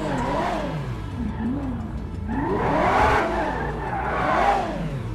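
A Lamborghini sports car mod in GTA 5 braking hard, its engine roaring and rising in pitch in repeated swells while the tires skid, loud and continuous with no talk.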